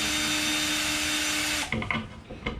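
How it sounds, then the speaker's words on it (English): A basic cordless power drill whirs steadily and loudly while backing out old cabinet door hardware, then stops, followed by a few quieter clicks and rattles of loosened parts. "Just got a basic little power drill here,"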